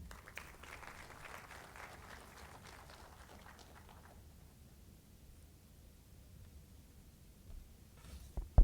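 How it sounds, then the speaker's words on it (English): An audience at a defence production keynote event claps for a few seconds, a soft, distant wash of applause that tapers off into quiet room noise before a brief bump at the end. "a huge round of applause for Shri Sanjeev Kumar"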